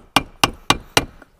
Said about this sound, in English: you may have to take a chisel and just kinda tap it a little bit